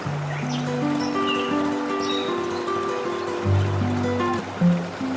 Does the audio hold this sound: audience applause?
no